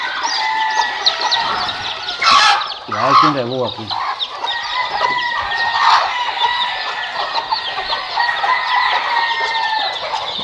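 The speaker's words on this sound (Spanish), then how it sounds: "Esta gallina entra nueva para acá hoy." Chickens cluck and call inside a poultry coop on a farm, with a newly added hen among them; a steady chorus of clucks and squawks runs throughout, while someone speaks briefly in the middle.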